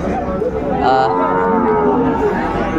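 Cattle moo loudly and close at Ambari cattle market in Dinajpur, where Sahiwal bull calves are traded; one long, drawn-out bellow fills the moment, with a busy market murmur beneath.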